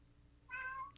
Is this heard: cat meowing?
yes